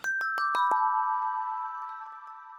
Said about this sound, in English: Got greenhead chimes, both the OG and the Atmos layer.